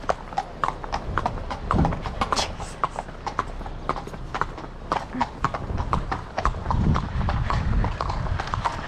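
Steady, rhythmic clip-clop of horse hooves on hard ground in a video game, close and continuous, with a brief snort or whinny mixed in.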